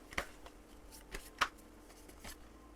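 Tarot cards being shuffled and drawn, heard as a few soft, quiet flicks and snaps spaced about a second apart over a faint room background, with no voices.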